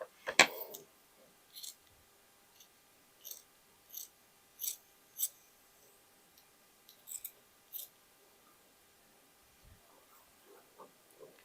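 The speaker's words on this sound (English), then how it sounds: "And I will cut just this piece." Scissors cutting a piece of leather for a large bag, a series of short, quiet snips and clicks spaced a second or so apart in a quiet room.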